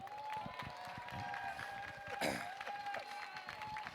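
A live conference audience on a Pokémon and Geek Life theme applauds and cheers a guest being welcomed on stage; a steady wash of claps and crowd noise runs under a sustained musical tone throughout.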